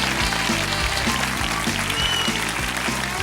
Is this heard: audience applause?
yes